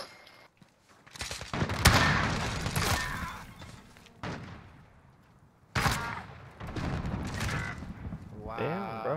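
Gunfire in a fast Search and Destroy shooter match, bursts of loud rapid shots and booming blasts in two main clusters with quieter gaps, voices of players talking under and between the shots.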